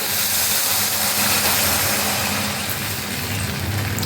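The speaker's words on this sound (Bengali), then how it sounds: "এবার দিয়ে দিচ্ছি আমি পরিমাণ মতো জল।" Water poured into a hot pan of fried spices and oil for a very spicy Bengali egg curry, giving a steady, loud hiss and sizzle that carries on evenly throughout with no talking.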